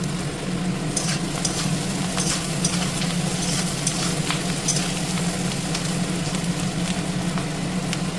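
Rice frying in a pan with a little sugar for bhat bhaja: a loud, constant close-up sizzle crackles for eight seconds, dotted with light spatula clicks and stirring, and no one talks.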